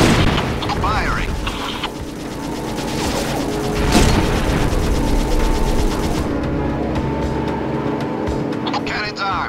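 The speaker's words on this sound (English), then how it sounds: "Bringing main gun to bear. Firing." Main cannon fire and mechanical clatter in the PSP shooter Syphon Filter: Logan's Shadow, with booming shots and ratcheting machinery under an ongoing game soundtrack while voices speak over the action.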